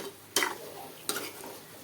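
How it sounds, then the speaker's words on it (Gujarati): Potatoes sizzle quietly in hot oil in a home kitchen pan, with two brief scraping stirs breaking the soft frying hiss. "બટેટાને આપણે તેલમાં સાતળશું"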